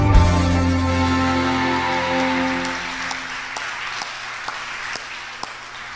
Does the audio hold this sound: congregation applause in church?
yes